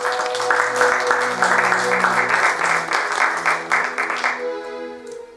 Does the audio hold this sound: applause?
yes